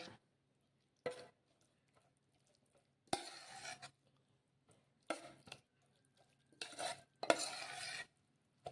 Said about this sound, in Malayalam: നമ്മൾ നന്നായിട്ട് ഇളക്കി യോജിപ്പിക്കുക